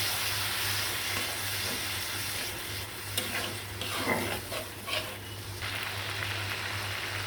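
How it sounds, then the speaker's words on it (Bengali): Spice paste of red chilli powder and turmeric cooking down with a splash of water in a pan, a steady soft sizzle and bubbling with occasional stirring scrapes, under a constant low electrical hum. "লাল মরিচের গুঁড়া হলুদ সেটি ভালো করে কষাইতে হবে একটু পানি দিয়ে মশলাটা ভালো করে কষাতে হয়"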